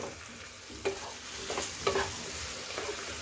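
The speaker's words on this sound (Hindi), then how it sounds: "चलाते हुए आप टमाटर को अच्छे से मसालों के साथ भून लें।" Finely chopped tomatoes fry with spices in a pan for a Bihari bottle gourd and chana dal curry, a soft steady sizzle broken by several sharp scrapes and clacks of the stirring spoon.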